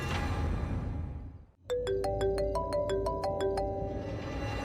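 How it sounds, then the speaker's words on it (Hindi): A mobile phone rings with a bright, repeating melodic tone that starts after a short dip and carries on steadily and clearly inside a moving car. "अब वो माँ का फोन है, मैं उठा लूं?"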